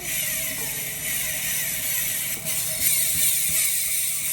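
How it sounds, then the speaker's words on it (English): Steady, loud mechanical clicking and whirring from a Hydra bicycle freehub on an Allied BC40 XL, a rapid ratchet-like buzz that runs continuously with a few brief clanks, close to the listener. "Hydra hub, it's really loud."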